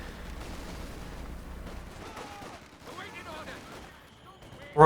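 Gunfire and artillery from a Company of Heroes 2 battle, with scattered distant shots and blasts sounding throughout and a sudden loud burst at the very end.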